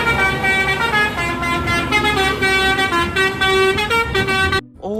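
Toy bus playing a telolet horn, a loud melodic multi-tone honk that runs continuously through a shifting tune for several seconds before cutting off abruptly.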